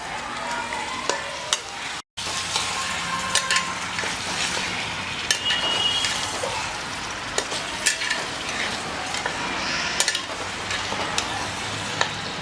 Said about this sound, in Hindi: अब इसके अंदर हम ये मीट को मिला देते हैं।